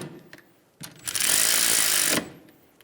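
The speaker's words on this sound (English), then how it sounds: "Snug the bolts down." A ratchet or power tool runs for about a second while snugging the brake caliper bolts on a 2007-2011 Toyota Camry, a steady buzzing whir framed by faint clicks before and after.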